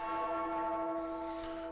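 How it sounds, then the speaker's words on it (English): The Liberty Bell at Philadelphia's town hall peals with a sustained, rich, humming tone that holds steady and fairly loud, ringing alone without speech. "From Philadelphia's town hall, the Liberty Bell pealed the tidings."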